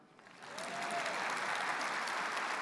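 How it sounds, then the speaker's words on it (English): Audience applause swells quickly into a steady, dense clapping from a sizable crowd at a credit union annual meeting, sustained and fairly loud throughout. "We can clap for that one."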